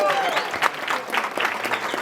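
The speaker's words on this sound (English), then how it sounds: "I want y'all to give a round of applause for the bartender." Comedy club crowd applauding a bartender during a stand-up showcase, a dense wash of steady clapping with a few cheers, fairly close and loud throughout.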